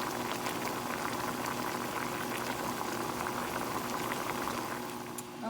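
Chicken feet adobo with bay leaves bubbles at a steady, vigorous boil in a pot, a dense continuous simmering wash with a faint hum, close and unbroken.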